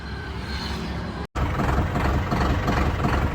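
A Sonalika tractor engine idling close by as it is parked inside a farm shed, a loud steady low diesel rumble with a momentary cut before it resumes.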